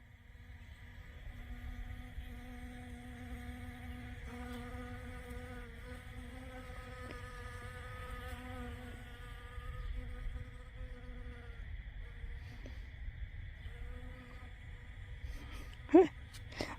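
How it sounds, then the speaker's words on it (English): Bees buzz around a sunflower bed in a spring garden, a thin, steady droning hum with wavering pitch as insects hover close, faint and continuous, with a brief louder bump near the end. "Bees are really loving this."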